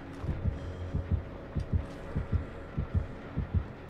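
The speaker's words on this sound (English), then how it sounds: "I heard a heartbeat." Heartbeat warning cue from the horror video game Dead by Daylight, a steady low double-thump pulse repeating about twice a second, loud and throbbing over a faint background hum with no talk.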